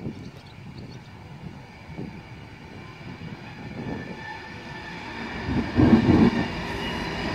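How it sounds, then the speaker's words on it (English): A Class 390 electric train from London Euston to Glasgow Central accelerates away at Carstairs on the West Coast Main Line, a distant low rumble swelling steadily louder and peaking near the end. "That's now leaving off the Glasgow Central from London Euston, off the red signal, so we'll see that accelerating, probably full power."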